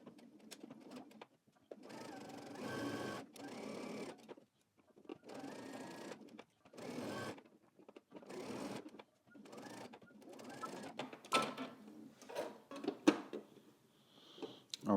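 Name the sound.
sewing machine stitching a seam with backstitch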